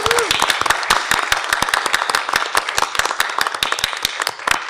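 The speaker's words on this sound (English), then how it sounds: "give a round of applause to all the students." An audience applauds the students at the close of a statewide spelling bee, with sharp, distinct claps from a fairly small crowd ringing out in a quick, uneven patter for the whole stretch.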